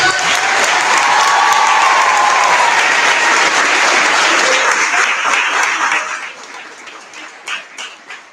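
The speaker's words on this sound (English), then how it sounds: "Everyone, please give a round of applause." A crowd at a college valedictory function breaks into loud, close applause that holds strong for several seconds and then thins to scattered claps near the end.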